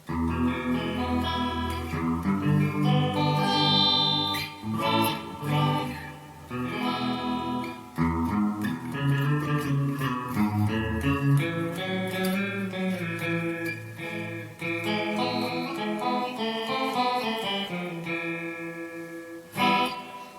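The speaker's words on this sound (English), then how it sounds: "Now let's try the detune setting. And this is a cool setting because it's like a chorus." Electric guitar played through a Donner Verb Square digital reverb pedal on its detune setting, giving a shimmering chorus-like wash over strummed chords and melodic lines, steady and fairly loud with no talking.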